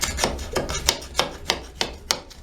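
A measuring stick scraping and catching against plaster wall slats inside a 1910 house, about seven rough, evenly spaced rasping strokes, close and fairly loud with no speech.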